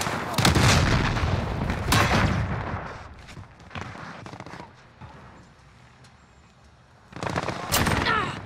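A sentry gun fires in a video game, loud rapid bursts of automatic gunfire at the start and again near the end, with quieter scattered shots in between.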